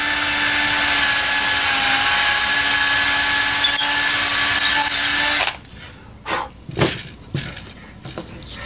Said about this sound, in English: we'll just drill a hole into the